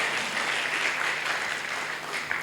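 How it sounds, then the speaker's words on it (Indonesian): Church congregation applause for Jesus at a Thursday service, a dense, continuous roar of many people clapping together at steady loudness throughout. "Tepuk tangan dulu untuk Tuhan Yesus."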